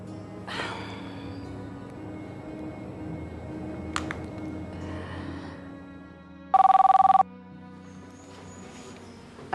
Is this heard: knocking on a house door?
no